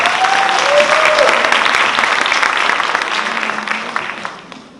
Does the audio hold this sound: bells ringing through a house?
no